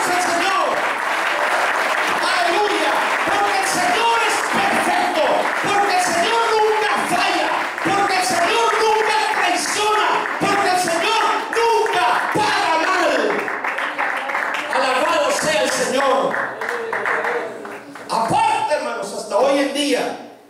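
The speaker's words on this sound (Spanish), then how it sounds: "hermanos, ofrende aplausos al Señor" Church congregation applauding continuously and loudly for the whole stretch, dense clapping with voices and brief cheers mixed in, tapering near the end.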